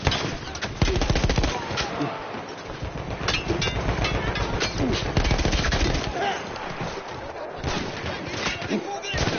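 Sustained bursts of Battlefield 1 machine gun fire on a gun position held by Austro-Hungarian troops, dense and loud throughout with rapid repeated shots and occasional voices mixed into the battle noise.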